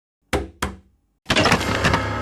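Two sharp knocks on a door in a Hindi crime drama scene, spaced about a third of a second apart and close by, followed after a short silence by a dense burst of broadband noise.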